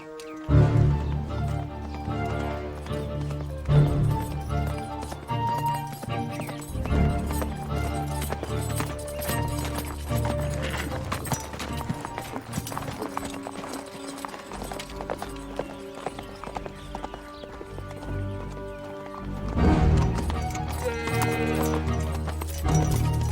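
Horse hooves clip-clopping as a woman rides off from a military camp, rhythmic hoofbeats set under swelling orchestral music throughout, with a whinny or two and no talk.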